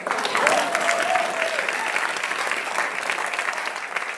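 A crowd at an activist rally gives a sustained round of applause for co-sponsor CASA, the clapping even and full throughout with a faint voice or cheer rising briefly near the start.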